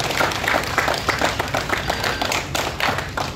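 Audience applause at a Swachh Bharat cleanliness campaign event with NSS volunteers in Bhubaneswar: steady, dense clapping from a crowd that fills the whole stretch at an even, loud level.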